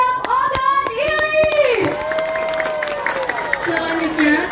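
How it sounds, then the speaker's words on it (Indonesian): At a nighttime campfire gathering during a regional scout jamboree in South Sumatra, a crowd gives sharp, scattered claps, heaviest at the start, under loud tonal voices and cheering. "Tepuk tangan yang meriah untuk Wajab Oda Dili."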